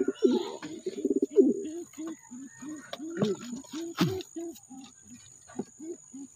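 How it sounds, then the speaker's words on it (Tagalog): Pigeons cooing in a steady run of soft, low, repeated coos, close by, with a few brief flutters and clatters mixed in. "Ito mga kalapatids."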